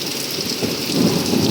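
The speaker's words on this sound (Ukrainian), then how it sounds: "Оце в нас дощ." Steady rain hisses down while a low rumble of thunder swells near the end, loud and close, with no voices.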